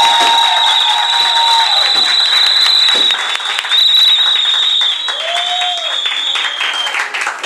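Loud, dense applause from an audience at a tribute ceremony for honored medical school professors. It runs steadily through the whole stretch, with a thin sustained whistle-like tone over the top and some voices mixed in.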